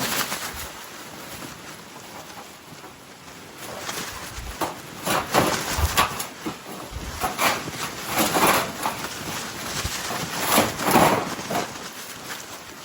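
Strong typhoon winds in the Philippines buffet loudly in gusty bursts, swelling and fading, with a roaring rush between them.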